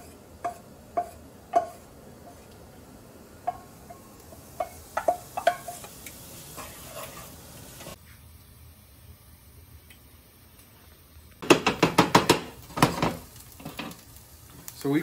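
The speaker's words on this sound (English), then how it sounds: "we're gonna add our yellow onion. You wanna hear that sizzle." Yellow onion hitting a hot pan and sizzling steadily while being stirred, with soft scraping taps early and a louder burst of spatula clatter and frying later, under occasional talk.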